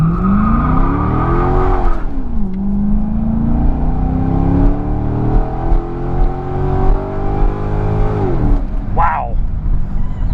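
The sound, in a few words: 2001 Mercedes S600 accelerating from a stop sign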